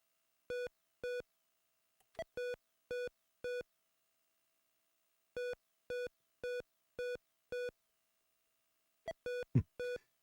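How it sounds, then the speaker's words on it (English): Electronic beeps from an Odyssey2 8-bit video game console: short bursts of two or three evenly spaced pure tones, repeating with pauses, and a brief noisy blip near the end. Clean and clear, with no talking. "Beep, beep, beep, beep, beep. So sound effects."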